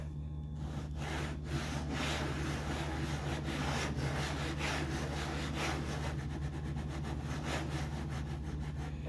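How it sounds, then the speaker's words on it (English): Stock mouse skates scrape over a plastic SteelSeries hard mouse pad, a close, rough, scratchy rubbing in repeated back-and-forth strokes, loud and continuous with no voices. "the stock skates do not play nice with hard pads. This is how it sounds on this Steel Series."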